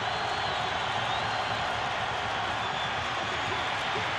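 Football stadium crowd at a West Virginia Mountaineers home game against Pitt in 1997, a broad, continuous roar of cheering filling the whole stretch, sustained and distant-sounding with no clear breaks.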